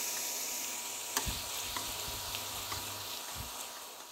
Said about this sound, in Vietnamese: Chiên khoai lang thì cũng rất là nhanh thôi các bạn.